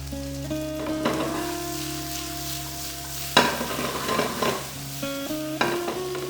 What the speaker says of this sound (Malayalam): ചെറിയ ചുവന്നുള്ളിയാണ്. ഇതിനെ നന്നായിട്ടിട്ട് വഴറ്റി കൊടുക്കാം.